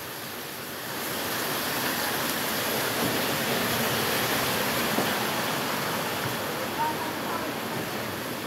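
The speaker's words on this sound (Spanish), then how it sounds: "Mira qué chulada está lloviendo." Heavy rain pours down in El Limón as a dense, continuous hiss that swells slightly after the first second and stays steady and close throughout.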